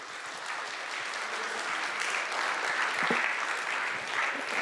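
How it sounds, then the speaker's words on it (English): An audience at a competitive programming event claps in steady, sustained applause that fills the room, close and continuous with no break. "let's give a round of applause for Gennady again"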